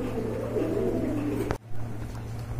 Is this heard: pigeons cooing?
yes